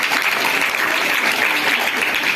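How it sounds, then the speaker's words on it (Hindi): A school class gives a steady round of applause in a quiz setting, with many hands clapping densely and evenly at close range throughout, and no talking over it. "एक बार और ताली बजाओ इसके लिए।"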